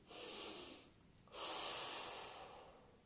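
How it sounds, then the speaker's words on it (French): During a gentle morning yoga session, two long, airy breaths sound close to the microphone. The second is louder and fuller, and there is no speech over them. "2 respirations. Soufflez."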